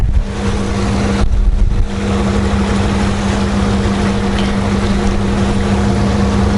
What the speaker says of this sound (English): See, the propellers are running.